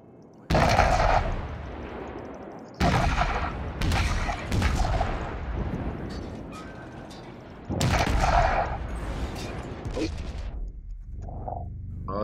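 Naval guns fire in World of Warships from the American cruiser USS Marblehead, loud booming salvos in three main bursts, each followed by a rolling, decaying rumble and scattered smaller blasts.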